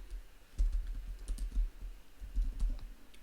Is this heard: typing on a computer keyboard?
yes